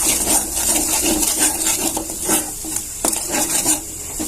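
Spices for hotel-style shev bhaji sautéed in a pan, a loud steady sizzle with repeated scraping strokes of a spoon against the pan.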